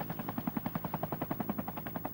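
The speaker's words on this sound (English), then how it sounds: "they were flown to the site by helicopter" A helicopter ferries fabricated artificial tree sections to a theme park construction site, its rotor thumping in a fast, even chop that stays fairly distant and steady throughout, with no voices.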